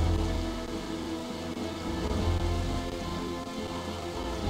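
Steady rain pours in the video game The Legend of Zelda: The Wind Waker, a dense continuous hiss of drops with a low rumbling undertone, loud and unbroken with no talking.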